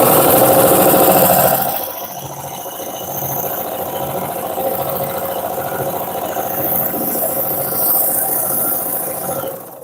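A Consew CP206RL portable walking foot sewing machine runs at full speed, a loud steady mechanical whir and rattle that follows a brief louder burst at the start and holds continuously to the end.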